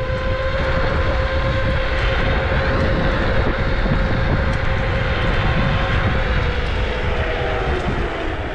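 A Kukirin G2 Ultra electric scooter ridden at speed, a steady loud whir with a sustained motor whine and heavy wind rush throughout, no pauses.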